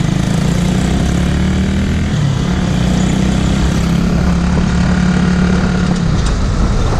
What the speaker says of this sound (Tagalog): Parang wala lakas yung motor ko, ah.